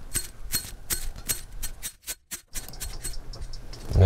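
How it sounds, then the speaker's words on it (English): A slinky toy used as a beat sound, giving dense crackling, springy metallic rattles and ticks in a rapid rhythm, with a brief gap midway before the scratchy jangling resumes. "So the first sound we're gonna use is the slinky."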